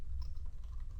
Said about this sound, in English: So I'm going to type list